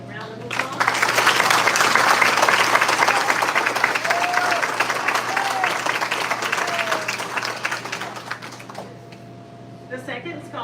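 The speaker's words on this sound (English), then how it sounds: "Would you please give them a round of applause?" An audience applauding graduating seniors at a high school senior night, a full burst of clapping that swells and gradually tapers off in a large room, with murmurs underneath and a voice near the end.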